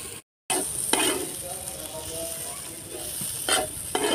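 Tomato, onion, coriander powder and turmeric fry in a little oil in a pan, a close steady sizzle broken by a brief silence and a few scraping stirs.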